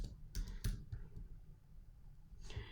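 Several sharp keystrokes on a computer keyboard click in a short, irregular cluster, heard close and quiet against a low room hum.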